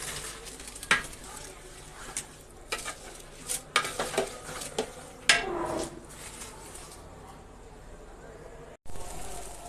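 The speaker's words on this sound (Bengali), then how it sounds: "সাদা পোলাও ভাজা হয়ে গিয়েছে" White pulao rice frying and being stirred in a cooking pot, with raisins going in, gives a steady sizzle broken by repeated scraping clinks of a spoon against metal. A short pause near the end is followed by the sizzle again.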